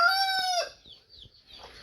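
Native chickens crossed with the Hubbard breed give one drawn-out, crow-like call up close, followed by a few short, scattered clucks.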